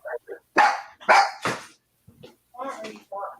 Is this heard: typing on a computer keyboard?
no